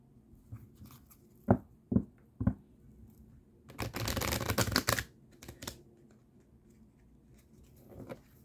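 Tarot cards riffle and slap together in short bursts, then a longer continuous shuffle lasting about a second, with quiet pauses between; no voices.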